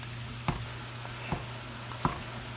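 A meat masher strikes ground beef frying in a pan over high heat, giving three soft, evenly spaced knocks over a steady, quiet sizzle.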